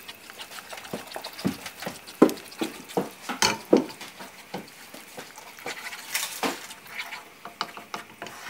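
A spoon scrapes and clanks through a thick rocky road mixture with marshmallows and biscuits in a bowl, an irregular run of close clicks and knocks with no talking.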